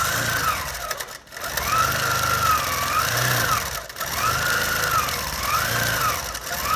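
A sewing machine free-motion quilts a feather spine, its needle chattering in a fast steady whir that surges and eases in repeating runs with short pauses between, close and alone.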